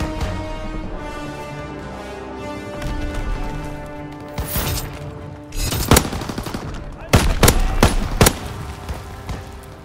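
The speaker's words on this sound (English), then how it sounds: "Fighter pilot inbound, strafing the target." Bursts of strafing gunfire from a fighter plane in Call of Duty: WWII, sharp loud volleys cracking over continuous battle noise and music, with the heaviest clustered shots near the end.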